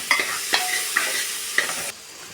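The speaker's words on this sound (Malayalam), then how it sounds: "സവാളയും പച്ചമുളകും ഇഞ്ചിയും വെളുത്തുള്ളിയും കൊത്തി അരിഞ്ഞത് ചേർത്ത് നമ്മളിങ്ങനെ ഇളക്കി" Chopped onion, green chili, ginger and garlic stir-fried for a Kerala bone curry, a steady close sizzle broken by four sharp scraping strokes of a spoon against the pan, then the frying quietens for the last moment.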